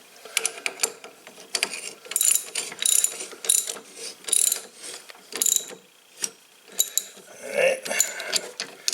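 Ratchet wrench tightening a bolt on a Craftsman push mower during a V-belt replacement, a close, steady run of rapid clicking strokes in short bursts with brief pauses between them.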